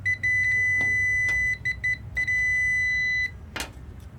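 A multimeter on continuity setting gives a high, steady electronic beep in several short bursts while probing a brake light switch on a 2009 Linhai Aeolus Classic scooter, close and clear.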